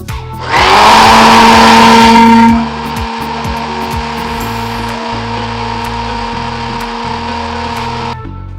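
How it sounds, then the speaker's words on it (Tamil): A mixer grinder grinds half a coconut for a pea and drumstick kuzhambu, roaring loudly for about two seconds before settling into a steady, lower whirring hum that runs on alone. "இப்போ நான் எடுத்துருக்கிறது அரைமுடி தேங்காய் அளவு இருக்கும். போட்டு அரைச்சிக்கிறேன்."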